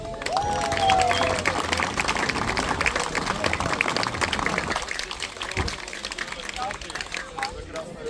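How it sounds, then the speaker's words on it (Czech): A crowd at an outdoor grilled-pig contest in Vracov applauds a firefighters' team, with dense clapping for about five seconds before it thins out beneath voices and crowd murmur. "Prosím ještě jednou potlesk pro hasiče ze Žardic."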